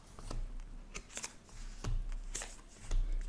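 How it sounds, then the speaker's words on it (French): Tarot cards are shuffled and drawn by hand, giving close, soft riffling and slapping bursts in an irregular rhythm, quiet and without talk. "On va prendre une carte supplémentaire."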